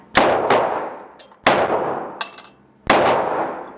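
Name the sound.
Glock pistol shots at steel target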